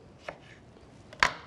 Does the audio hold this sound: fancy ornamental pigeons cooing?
no